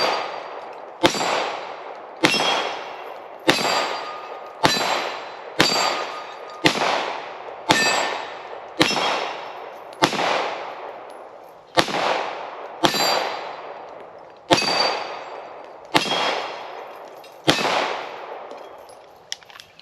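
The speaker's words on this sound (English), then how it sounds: "I'm going to be firing the Echelon one-handed." A Springfield Echelon pistol fired one-handed with 115 grain Remington UMC ammunition, about fourteen sharp, loud shots in a steady rhythm roughly one to two seconds apart, each ringing off briefly.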